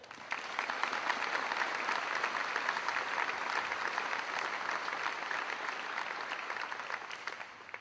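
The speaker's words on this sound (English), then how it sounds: "Gentlemen, please join me in giving them a round of applause." Applause at a military change of command ceremony, a steady, fairly soft and somewhat distant patter of many hands that holds evenly throughout without voices on top.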